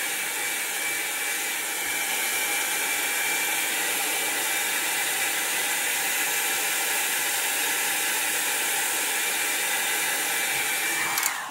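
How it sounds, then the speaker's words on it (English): A Revlon hair dryer blows loudly and continuously with an even, rushing whoosh and a faint whine, then cuts off abruptly at the very end. "It's a blow dryer."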